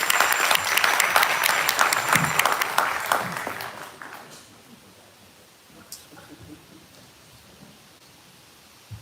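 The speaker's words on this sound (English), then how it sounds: "give her a round of applause" A crowd at a sheriff's office community briefing applauds for Major Hope, loud dense clapping that fades out after about four seconds into a quiet room with faint stirring.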